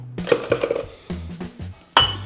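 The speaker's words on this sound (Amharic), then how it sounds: "በራሱ ማንኪያ መቀላቀል ትችላላችሁ።" A spoon clinks repeatedly against a bowl while stirring a honey, lemon juice and oil dressing, a cluster of quick taps followed by a few sharper knocks, close and fairly clear.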